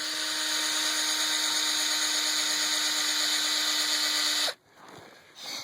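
Cordless drill driving a drywall screw through a plywood strip into wood to hold greenhouse plastic, a steady high whine for several seconds that stops abruptly, followed by faint handling noise.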